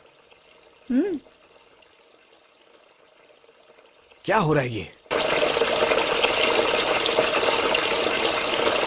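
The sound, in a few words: water running from a sink tap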